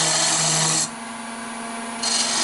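A wood lathe turns and shapes the top of a wooden Dalek body, giving a steady broadband scraping hiss with a constant motor hum, easing quieter in the middle before returning to full loudness.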